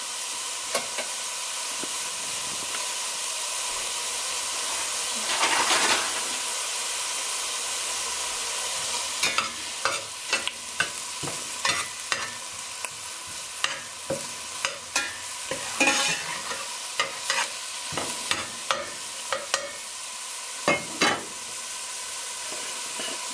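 Salted onions cook in a pot, giving a constant soft sizzle and hiss with a brief louder steam burst early, then a run of clicking scrapes as a spoon stirs them.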